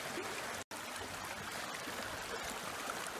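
River water runs steadily over rocks at a gold-prospecting spot, a soft continuous wash of flowing water with a brief dropout near the start.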